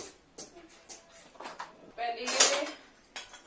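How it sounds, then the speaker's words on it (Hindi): Dishes and pans clink and clatter in quick bursts as they are handled and set down nearby, with a voice talking in between. "पहले ये लंच के बर्तन लगा देती हूँ"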